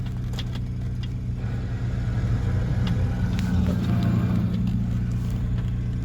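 A Holden Commodore with a rebuilt gearbox pulls away, its engine a low steady hum and rumble heard from inside the cabin, rising slightly partway through with small clicks and rattles on top.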